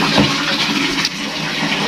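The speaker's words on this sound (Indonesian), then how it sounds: "Kita cuci dulu buah" Fruit rinsed under running water from a tap, a steady close rushing gush of water that runs without break for the full stretch, with no talking.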